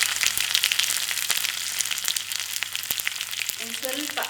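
Mustard seeds, cumin and crushed garlic sizzle in a tablespoon of hot ghee for tempering, giving a bright, crackling hiss with sharp pops close up that runs continuously. A faint low tone enters near the end.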